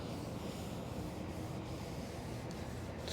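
Cloth wiping and rubbing a carbon fiber car surface with degreaser, a continuous soft scrubbing swish that stays close and faint throughout.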